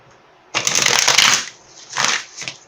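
Tarot cards are shuffled up close, one long riffling burst followed by two shorter bursts of crisp flicking and rustling, with no talk.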